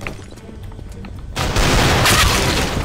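Gunfire in CS:GO on PlayStation, a few sharp shots followed by a loud dense burst of rapid firing and impacts that dominates the second half.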